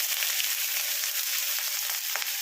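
Finely chopped onions fry in a pan for mixed fried rice, giving a steady close sizzle with faint crackles throughout.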